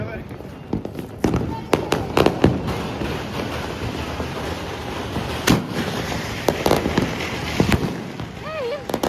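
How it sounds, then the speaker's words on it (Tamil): Diwali firecrackers bursting on a rooftop terrace, with a string of sharp cracks and bangs at irregular intervals and people talking throughout. A whistling rocket rises near the end. "இப்போ வந்து மொட்டை மாடிக்கு வந்து பட்டாசு வெடிக்க வந்துடுவோம்."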